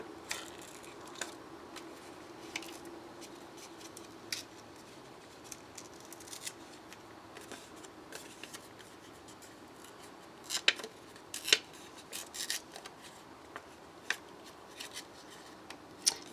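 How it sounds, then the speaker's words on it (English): Paper torn by hand while making fragment cards, heard as a series of short, dry rips and crinkles scattered across a quiet background, with a denser cluster of tearing near the end. "See, I was tearing towards myself and now I got some of that white paper."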